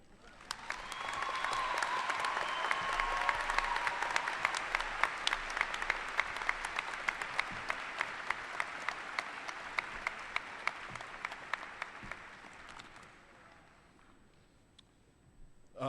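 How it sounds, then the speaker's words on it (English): Enthusiastic applause from a 2024 West High School graduation audience, a dense clapping wash with a few whoops and cheers. It holds steady for about twelve seconds, then thins and fades out. "let's give Francesca Hong one more round of applause"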